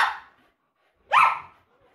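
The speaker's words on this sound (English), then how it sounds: "my dog's freaking out because I have a fidget spinner and I'm not even spinning it" A dog barks twice at a fidget spinner that is not even spinning, a short sharp bark followed by a louder yelping one after a brief pause, close by with no talking.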